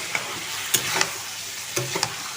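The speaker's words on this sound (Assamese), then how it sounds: "মাংসটো আৰু অলপ ভাজি লওঁ" Chicken pieces fry in a pan as oil renders out of the meat. A close, steady sizzle carries several sharp scraping taps from stirring, and no one speaks.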